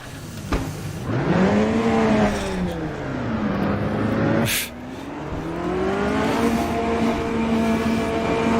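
Metalmoro AJR race car at Floripa in the Automobilista VR racing game revs and shifts, its engine note rising and falling in loud sweeps with a sharp gear change midway, close and continuous.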